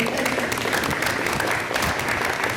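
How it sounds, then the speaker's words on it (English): An audience at a school board of education meeting claps in sustained, dense applause that fills the room for the whole stretch, loud and close. "she deserves a round of applause too"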